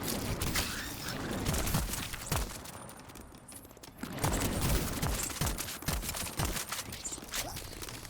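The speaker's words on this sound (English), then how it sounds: "This shotgun is actually doing some crazy work for us." Rapid bursts of shotgun blasts in the video game Voidtrain, a dense fusillade of sharp cracks with short pauses between volleys, moderately loud over game background noise.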